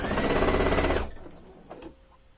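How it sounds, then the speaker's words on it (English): A sewing machine running fast while sewing pillowcase pieces, one steady loud whirring burst for about a second that stops abruptly, followed by soft handling clicks. "And just keep sewing until I get them all done"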